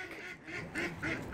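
Ducks quack several times in quick succession, nasal calls coming close together at moderate volume, with no talk over them.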